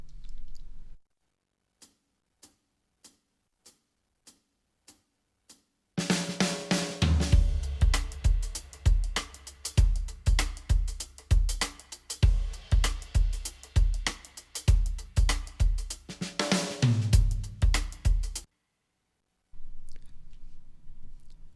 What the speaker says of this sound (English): Let's take a listen to a little bit of the drums